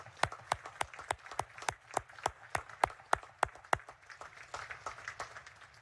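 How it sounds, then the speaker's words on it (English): Scattered applause for parents and families at a U.S. Naval Academy graduation ceremony. Sharp individual claps ring out about every third of a second, then fade into softer, thinner clapping from a large outdoor crowd. "How about a hand of applause for your parents and your families?"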